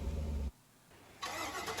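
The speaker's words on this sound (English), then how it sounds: "Sounds like a Corvette." A car with an LS3 V8 engine, Corvette-like, starts up: a loud low rumble cuts off briefly, then the engine catches and roars back, full and close.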